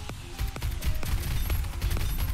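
Rapid bursts of pistol gunfire in a video game crack sharply in quick succession, several shots close together with a busy, game-like background hum.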